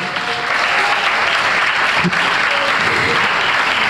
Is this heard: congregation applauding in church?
yes